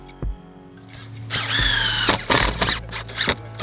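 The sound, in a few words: power drill driving screws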